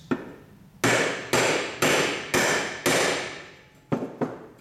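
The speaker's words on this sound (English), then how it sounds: "for which I'll use my handy tool plus a hammer. Give it a couple of good whacks." A hammer strikes a seating tool on the triple tree of a 1990 Honda XLR250R Baja motorcycle: seven sharp metallic whacks, five evenly spaced and then a quicker pair, each ringing briefly and up close.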